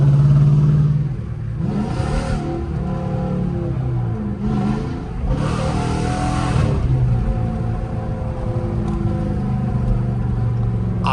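Dodge Charger R/T car engine heard from inside while driving, a loud steady low rumble that swells in several revving surges, with no talking.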